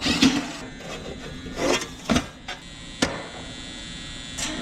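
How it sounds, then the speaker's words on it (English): Faulty contactor in a Ducane air conditioner buzzing with a steady low hum, broken by several short, sharp clicks and rattling bursts at close range, with no talking. "hear that is the contactor likely buzzing in there"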